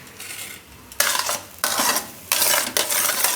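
Chana dal roasting in desi ghee over a medium flame is stirred in the pan, giving three bursts of loud, close scraping and rustling separated by short quiet gaps.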